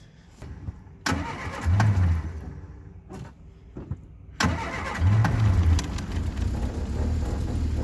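A Spitfire car engine starting for the first time in 25 years, with two cranking attempts that each catch and rumble loudly up close, separated by a brief pause, and no talking.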